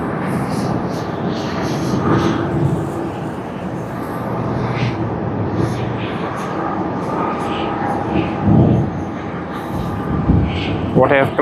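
Aircraft at a snowy Tokyo Haneda Airport, a continuous broad engine roar that swells and shifts through the whole stretch, with faint voices over it.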